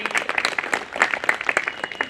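Audience clapping at a Bar Council of Delhi enrolment meeting, a dense patter of many hands applauding steadily throughout at moderate loudness, with no voices over it.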